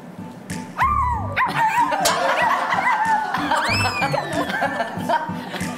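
A puppy yaps and whimpers in a run of high, rising barks, close and loud over steady low background sound.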